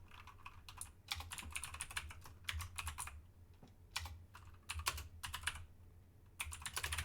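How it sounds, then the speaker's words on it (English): Loud mechanical computer keyboard typing in quick bursts of rapid clacking keystrokes, separated by short pauses, close and alone. "Is my keyboard too loud? I know that it is loud, but is it too loud?"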